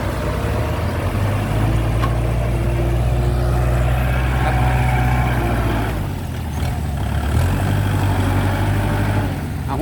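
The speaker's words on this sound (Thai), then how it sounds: "รถไถซิ่ง" A Kubota L5018 farm tractor's diesel engine runs steadily, a loud low rumbling drone that holds nearly constant for about ten seconds with a brief dip midway.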